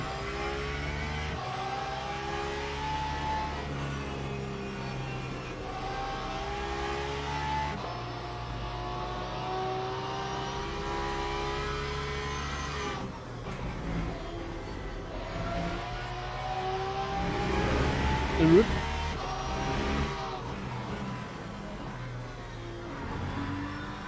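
GTE race cars circulate in Le Mans Ultimate, a sim racing game, with a steady layered engine drone at moderate level that shifts pitch with gear changes, rising and falling as revs climb and drop, with no talk over it.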